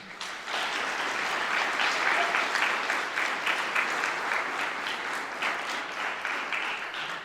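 An audience at a high school music hall of fame concert applauds student mallet players, a dense, steady clapping that swells in quickly and carries on alone for several seconds.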